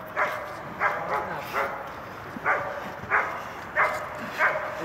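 A Malinois gives a string of short, muffled barks and grunts while gripping during bite work, about eight evenly spaced bursts at close range.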